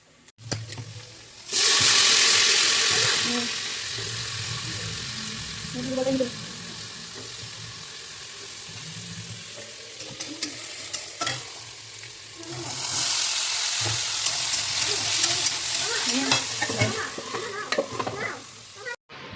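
Potatoes fry in oil in a pan, giving a loud, continuous sizzle with stirring and scraping, which fades to a lower hiss midway, then surges again, with faint voices in the background.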